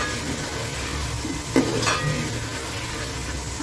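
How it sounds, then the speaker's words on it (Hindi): A spoon stirs and mashes tomatoes frying in oil, giving a steady close sizzle with soft scraping strokes and one brief clink of the spoon against the pan, with no talking. "इसमें हम हल्के हल्के चमचा चलाते रहेंगे और टमाटर को थोड़ा मैश करते"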